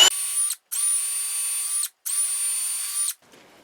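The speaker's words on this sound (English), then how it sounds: "I'm going to step drill this" A power step drill whines through metal in three steady bursts, each about a second long, with short pauses between, loud and close, drilling a 1/4-inch hole.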